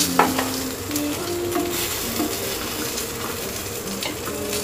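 Green peas tossed into a frying pan of hot oil for a pea and tomato curry, sizzling steadily while being stirred, with close scraping and occasional clinks of the utensil against the pan.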